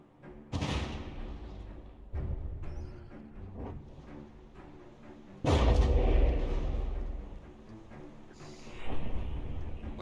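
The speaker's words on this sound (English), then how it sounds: "Looks like the destroyer over here was under fire from some flak shells from the opposing light cruiser" Flak shells from a light cruiser bursting around a destroyer during a From The Depths squadron battle: repeated heavy thumping blasts, with one especially loud, booming hit midway and rumbling echoes between them.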